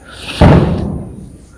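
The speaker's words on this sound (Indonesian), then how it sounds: "Itu bunyi petasan ya di Parung itu" A single firecracker goes off for a village wedding in Parung, a sudden loud bang that decays over about a second, sounding fairly close, with no voices.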